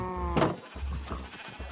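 Minecraft sheep bleat in quick succession, one loud close wavering bleat followed by softer ones in a game setting.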